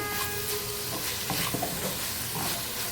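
Chicken with green chilies fries in a pan, a steady close sizzle with occasional stirring scrapes and soft crackles throughout, no voices.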